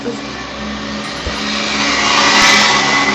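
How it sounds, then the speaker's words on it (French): A motorcycle passes outside an open window, a steady broad engine roar that swells gradually and peaks near the end, with no talk over it. "Désolé pour la moto, c'est parce que ma fenêtre est ouverte."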